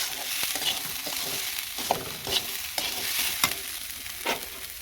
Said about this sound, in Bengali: পরিমাণ মতন হলুদ আর পরিমাণ মতন লবণ দিয়ে ভালো মতন নেড়ে ফেলে তাইলে আমি ভেজে নেব